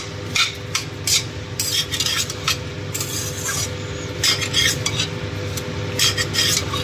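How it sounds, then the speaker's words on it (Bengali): Food is stirred and sautéed in a pan, with repeated scraping strokes of a utensil against the metal over a low background hum and a faint sizzle, and no speech. "ভাজা ভাজা করবো, সামান্য একটু কষা কষা করে"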